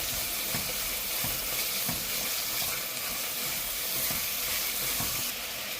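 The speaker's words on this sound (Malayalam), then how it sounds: "ഇനി നമുക്ക് സവാള അരിഞ്ഞിടാം. നന്നായിട്ട് ഇതിന് വഴറ്റി കൊടുക്കാം." Chopped onions sauté in oil in a pan for beef curry, a dense, continuous close sizzle with soft stirring scrapes throughout and no voices.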